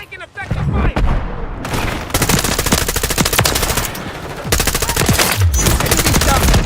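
Sustained rapid automatic gunfire from a first-person shooter game rattles loudly in long dense bursts, broken by brief pauses.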